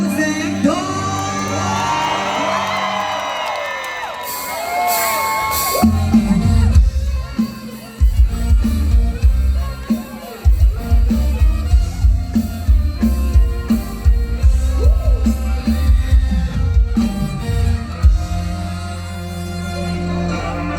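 A large crowd at a Thai Isan music concert screams, whoops and cheers loudly and continuously, with shrill shouts over a dense roar and a host's amplified voice and music joining in.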